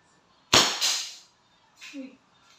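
A single sharp pneumatic crack from a Crosman SNR 357 airgun revolver fired single action, loud and close, with a brief decaying tail and a faint clack shortly after.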